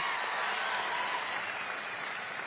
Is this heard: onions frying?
no